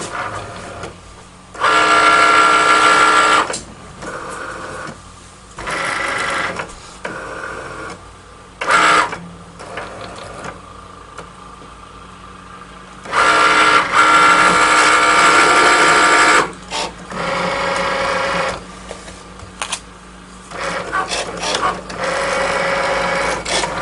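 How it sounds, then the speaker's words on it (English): A Cricut machine print-and-cut job cutting printed stickers into circles: loud whirring motor bursts of several seconds each, separated by brief pauses and clicks, close up, with no talking. "the machine is finding out from just those little lines that it needs to cut them all out in circles."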